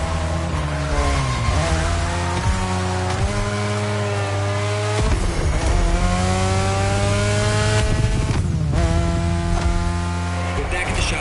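Honda NSX racing through sharp turns in a video game, a steady loud engine drone with shifting pitch and tire squeal as the car drifts, continuous throughout over music-like tonal layers.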